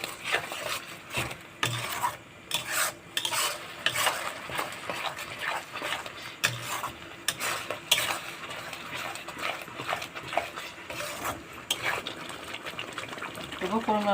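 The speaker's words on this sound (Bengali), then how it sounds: "ভালো করে কষে নেব এখন মশলাটাকে" Spice masala with coriander and red chilli powder stir-fried for an egg poach curry, spatula scraping and rubbing against the pan in repeated strokes over a sizzling bed, with talk at times.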